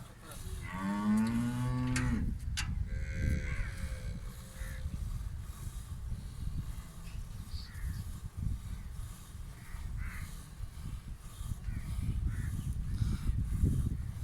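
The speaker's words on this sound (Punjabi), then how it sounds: "ਭਾਈ ਦੋਸਤ ਮੁਹੰਮਦ ਇਹ ਕਿਹੜੇ ਨੀਲੀ ਦੀਆਂ ਮੱਝਾਂ ਹੁੰਦੀਆਂ ਨੇ" A Nili buffalo lows loudly and close by near the start, then a steady low rumble of outdoor background noise continues with faint scattered sounds.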